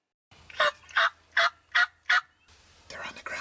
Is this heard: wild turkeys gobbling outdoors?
yes